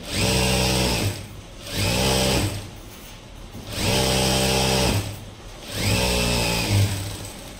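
A sewing machine stitches straight seams around a lehenga, whirring in four separate runs of about a second each, with short quiet gaps between them, close and fairly loud.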